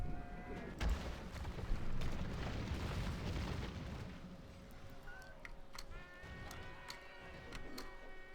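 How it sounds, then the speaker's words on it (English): Missile explosions in a strategy video game battle: a cluster of deep booms and a rumbling blast early on that fade into softer battlefield noise. "we're actually using our missiles here."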